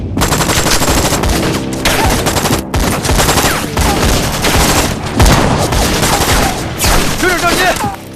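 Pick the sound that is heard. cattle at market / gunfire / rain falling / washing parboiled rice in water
gunfire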